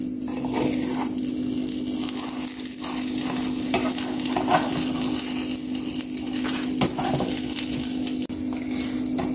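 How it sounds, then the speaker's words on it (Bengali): Egg frying in a pan over medium heat, a steady dense sizzle with soft crackles running throughout, close and unbroken, with no voices. "ডিম দেওয়ার পরে চুলার জালটা মিডিয়াম করে দিচ্ছি, মিডিয়াম করে ভেজে নেব।"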